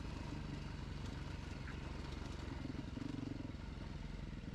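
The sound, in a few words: Beta RR 430 dirt motorcycle riding downhill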